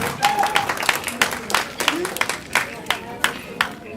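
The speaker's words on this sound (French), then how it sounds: "Faut applaudir." Guests clap in scattered, uneven bursts at a Congolese traditional wedding party as gifts are announced, with background chatter and crowd noise running throughout.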